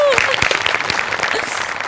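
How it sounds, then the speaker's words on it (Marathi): A studio audience at a Marathi comedy show bursts into brief, lively applause, rapid claps close and loud, with a voice speaking over the clapping throughout. "त्याच्यासाठी जोरदार टाळ्या"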